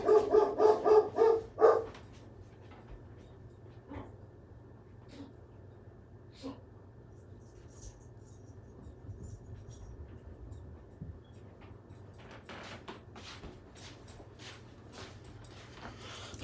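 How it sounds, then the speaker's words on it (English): A dog barks in a quick run of about six loud, close barks at the start, then falls quiet, leaving low room hum with faint scattered background sounds. "Damn dog."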